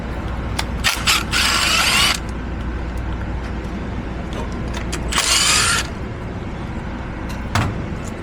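Ratchet wrench with a 10mm socket clicking in two quick bursts of rapid pawl clicks during a Sprinter van off-road suspension install, loud and close, with a lone click near the end and no talking.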